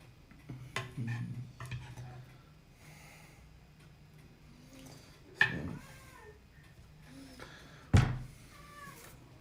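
A cat in a kitchen meows a few times, short rising calls close by amid soft breathing-like noises and sharp clicks, with two louder bursts standing out.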